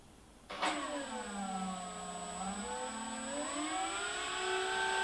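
A small RC electric motor on an FrSky current-sensor test setup spins up at low throttle with a steady, high electric whine, near and fairly quiet, its pitch shifting slightly and the sound growing louder toward the end.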